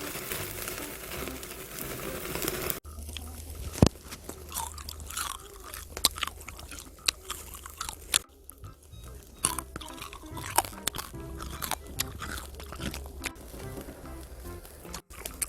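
Close-up crunchy chewing of grilled crispy pork skin with irregular crackling bites, loud and crisp against a quiet background.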